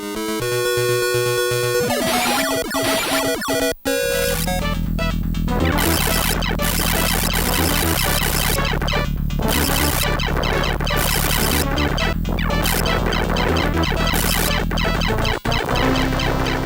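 Dense, bright FM-synth Sega Master System video game music plays continuously, busy chiptune-like melody over driving bass and percussion, with a brief dropout near the start.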